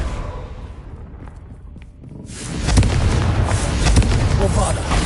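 Spell explosions in the Hogwarts Legacy video game burst with booming, rumbling blasts that swell into a dense, sustained roar of crackling destruction, loud and close, after a quieter lull.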